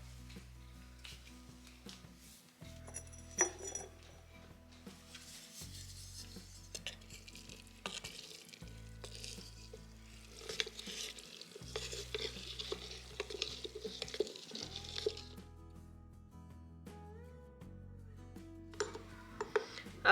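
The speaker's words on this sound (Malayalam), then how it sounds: "ഇത് ഒന്ന് തുറന്ന് നോക്കിയിട്ട് നമുക്കൊന്ന് ഇളക്കി കൊടുക്കാം" Homemade orange wine being stirred in its jar, a soft scraping and sloshing repeated in steady strokes up close, with faint clinks of the utensil against the glass.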